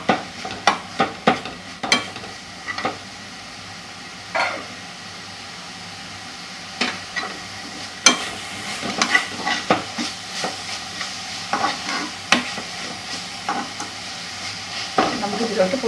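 Vegetables sizzle and fry in a pan as spice powders go in, with repeated scraping stir strokes at an irregular rhythm, close and moderately loud over a steady hiss.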